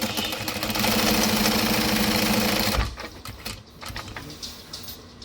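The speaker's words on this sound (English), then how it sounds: "And then top stitch across the top folded edge. I use a 5 stitch length for my top stitch." Close, steady whir of a sewing machine top stitching the folded edge of a backpack pocket at long stitch length, running for nearly three seconds and then stopping, followed by quieter handling sounds.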